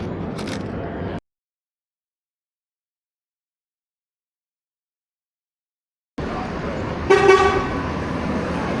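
Busy Chinatown street traffic, with a short car horn toot standing out near the end over steady road noise, and earlier passing vehicles including a garbage truck and taxi; a long silent gap separates the two stretches.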